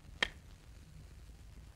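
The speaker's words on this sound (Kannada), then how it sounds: "sound running take 2 clap" A film clapperboard snaps shut once for take two on a movie set, a single sharp, crisp clack near the start followed by a quiet room.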